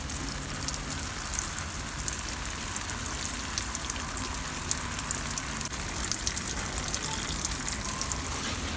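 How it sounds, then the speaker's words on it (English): Rainwater poured from a container onto potted mulberry plants in a container food forest, a steady, fairly quiet splashing wash of water with no speech. "Let me water them. This is some rainwater, which is ideal."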